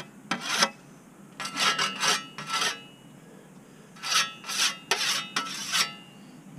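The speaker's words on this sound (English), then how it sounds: "you just stop every once in a while and sharpen it" Rasping strokes of a whetstone along a 24-inch Austrian grass scythe blade outdoors, in two bursts of several quick scrapes separated by a short pause, close and fairly loud.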